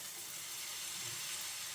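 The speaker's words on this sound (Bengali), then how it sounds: "এখন আমি ফেটে রাখা ডিমটা এর মধ্যে দিয়ে দিচ্ছি।" Beaten egg going into a hot frying pan for a paratha with flour and mozzarella cheese, giving a soft, steady sizzle and hiss that stays faint and even throughout.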